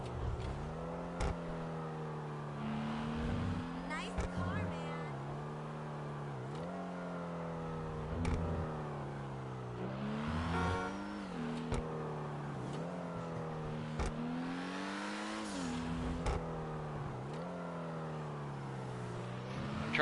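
A fast car in a GTA video game revs repeatedly, its engine note climbing and dropping in rising waves through gear shifts, loud and continuous with no talk.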